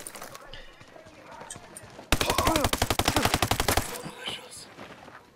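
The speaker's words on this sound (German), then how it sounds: "Einfach mal aus der Hüfte geschossen." Rapid burst of automatic gunfire shot from the hip in a video game, a dense run of sharp, evenly spaced shots lasting about two seconds, loud and close, with quieter background noise before and after.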